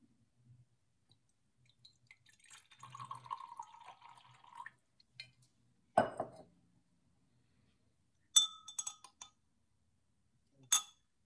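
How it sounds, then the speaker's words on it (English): Water is poured into a glass test tube, giving a soft trickle followed by a few sharp glassy clinks and taps, heard close and alone with quiet pauses between. "So I add water to the test tube now."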